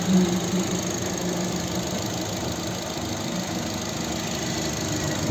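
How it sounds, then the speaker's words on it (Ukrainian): A 2011 Opel Zafira 1.8 petrol engine idles steadily up close, a continuous low rumble with a faint knocking texture and no pauses. "Ось робота двигуна."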